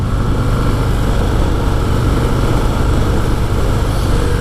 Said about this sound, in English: You drop a gear here,